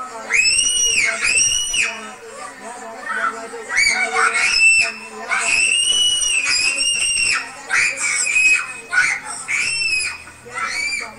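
A girl at a school screams shrilly and repeatedly in long, piercing bursts with brief breaks, loud and close, with voices mixed in.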